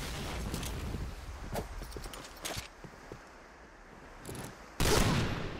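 Scattered bursts of gunfire in the video game Point Blank, some sharp single shots and a louder burst near the end, over quiet background noise.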